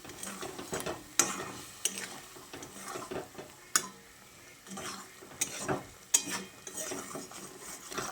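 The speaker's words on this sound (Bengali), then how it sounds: "এবার সব কিছুকে একসঙ্গে ভালো করে কষিয়ে নিচ্ছি।" Chicken and spices for chicken curry are being sautéed in a pan, with a spoon stirring and scraping against the metal in uneven strokes over a soft, continuous sizzle, close and alone.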